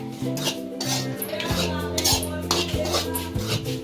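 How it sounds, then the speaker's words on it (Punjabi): Two kilograms of gram flour (besan) roasting in a pan for laddus as a spoon stirs and scrapes it, giving a steady run of close metallic scrapes and clinks with no talking. "ਹੁਣ ਅਸੀਂ ਭੁੰਨਦੇ ਆ ਜੀ ਬੇਸਣ"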